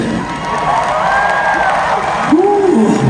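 Concert audience at a show in Malaysia, 2025, cheering and clapping in a steady broad wash of crowd noise, with a voice singing or calling over it near the end.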